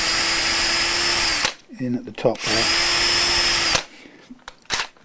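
Power drill running in two long steady bursts into a Fender USA Stratocaster guitar body with a slightly blunt bit, close and loud, with brief speech between the bursts and some handling sounds after.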